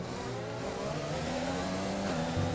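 Formula 1 race car engine in the F1 2020 video game at Silverstone, a steady high-pitched whine holding and climbing under acceleration in overtake mode, continuous and close with no voices.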